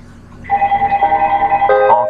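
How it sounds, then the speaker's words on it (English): A mobile phone rings with a steady electronic tone of repeated pulsing notes, fairly loud and close, rising into a brighter chiming phrase near the end, with no talk over it. "My phone ringing."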